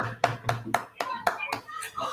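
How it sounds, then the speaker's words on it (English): Several sharp hand claps land in a steady rhythm, close by, with a few more scattered claps trailing off. "We are clapping our hands for him already."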